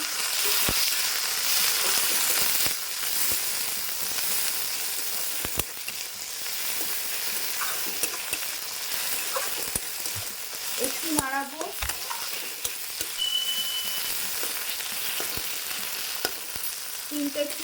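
Chopped tomatoes frying with browned onions in a pan for a dhaba-style egg curry, a steady broadband sizzle with occasional stirring scrapes and clinks, close and continuous without talk.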